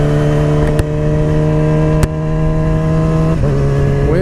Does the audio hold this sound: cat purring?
no